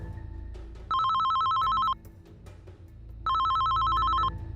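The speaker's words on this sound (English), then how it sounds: "On the first day, his phone rang, but there was no answer." A telephone bell rings loudly in two long, steady bursts, each about a second long, separated by a short pause, with no voices present.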